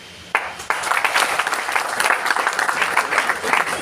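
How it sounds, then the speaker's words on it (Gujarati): After a brief quiet moment, a crowd breaks into loud, sustained applause, dense clapping that continues steadily to the end. "આજે તમે મારા માટે ઊભા થઈને તાળીઓ પાડો,"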